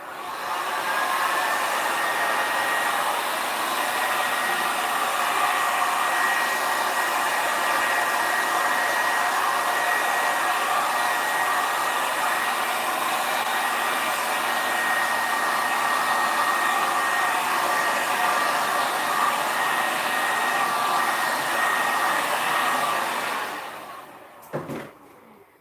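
Heat gun blowing steadily on freshly poured resin to pop surface bubbles, a continuous close airy roar that runs unbroken for over twenty seconds before cutting off with a brief clunk near the end.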